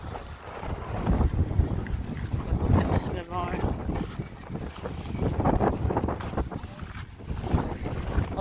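Strong wind buffets the microphone on a beach beside a 1st US Infantry Division memorial, roaring steadily and gusting louder at times, while someone talks over it throughout.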